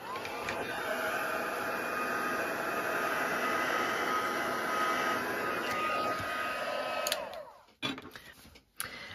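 A heat tool blows steadily over embossing powder to melt it into a black ice finish, a loud continuous whooshing hum that runs for several seconds before clicking off, followed by a couple of brief handling knocks.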